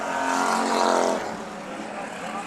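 Topless modified race cars roar around the Bakersfield Speedway oval during a heat race, a loud, dense engine drone that swells and then eases as the pack passes, with faint crowd or commentary noise beneath.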